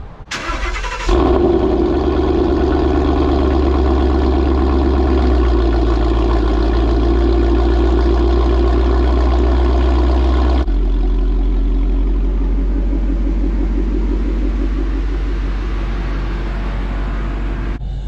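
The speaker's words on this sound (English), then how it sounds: "it is time to do a cold start on a 2017 Mustang GT" A 2017 Ford Mustang GT V8 cold-starts, cranking and firing up loudly, settling into a deep, rumbling high idle through a Corsa Xtreme cat-back exhaust, then the idle drops slightly and steadies.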